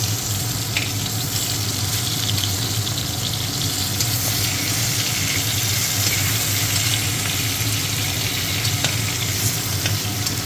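Fish frying in oil in a pan: a steady, close, dense sizzle that runs continuously, with only a few small clicks and pops and no talking.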